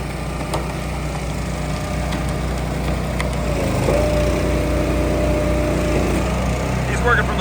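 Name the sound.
12-way firewood processor running at expo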